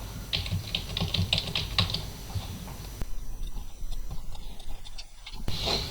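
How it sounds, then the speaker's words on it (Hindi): Someone types a user name on a computer keyboard, a quick burst of close, crisp key clicks followed by a few scattered taps and a final sharp keystroke. "जैसे ही नाम लिखेंगे बिलाल रज़ा आ गया"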